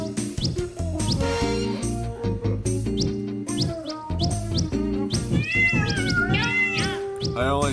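Cats meow repeatedly in the video game Tasty Planet, a dense run of close, loud yowls and rising cries with some caterwauling and a chirpy note, layered over steady game music.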